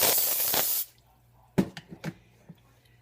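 Cooking spray hisses into a casserole dish in one loud, steady burst lasting under a second, followed by silence and a few soft clinks and taps.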